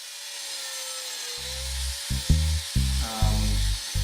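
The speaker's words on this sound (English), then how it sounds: "doing some of the very preliminary material removal with a power tool" A power tool grinds and saws into wood in several short bursts over a steady background hum, growing louder toward the end.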